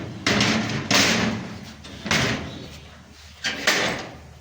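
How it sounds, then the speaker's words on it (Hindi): A house door is pushed shut, giving several loud nearby thuds and bangs spaced across a few seconds, with faint rustling between the impacts and no talking. "तो हम लगा रहे हैं दरवाज़ा।"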